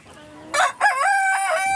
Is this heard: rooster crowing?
yes